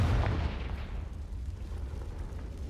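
Fiery Confringo spell explosion from the video game Hogwarts Legacy, a loud booming burst at the start that rumbles and decays over a couple of seconds.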